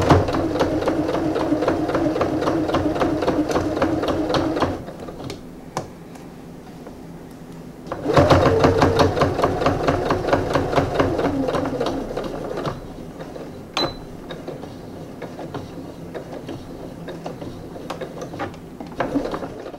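A sewing machine stitches a seam on a small pouch, its fast needle chatter running in two long bursts with a quiet pause between them, close by with no talking.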